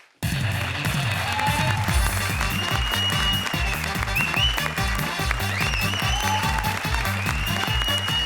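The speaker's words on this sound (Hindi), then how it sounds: "राजीव, सुगंधा और परेश के लिए जोरदार तालियां।" Studio audience applause for performers Rajeev, Sugandha and Paresh on a comedy circus show, dense clapping with cheering over a steady rhythmic music bed, loud and continuous throughout.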